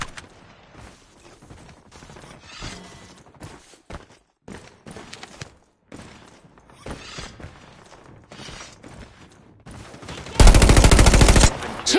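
Video game gunfire in a hardcore Alcatraz match: scattered shots and bursts with mechanical clicks and footsteps, ending in a loud sustained automatic burst up close.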